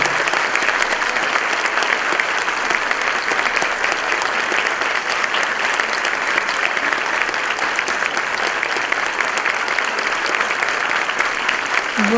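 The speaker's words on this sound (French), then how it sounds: "Recevons notre sœur Marlisa avec un grand applaudissement" A church congregation welcomes a woman with loud, sustained applause, a dense and close wall of many clapping hands that continues unbroken for the whole stretch.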